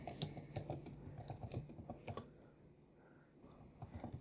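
Quick run of clicky keystrokes on a computer keyboard, close and fairly quiet, fading to near silence over the last couple of seconds.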